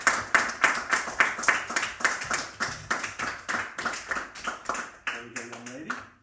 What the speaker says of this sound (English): You may give her a round of applause.